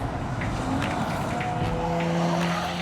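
Lexus GS 450h hybrid saloon drifting on a track, its tyres squealing in long sustained wails over a steady engine roar and the rush of a car sweeping past close by.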